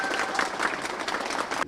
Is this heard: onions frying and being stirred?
no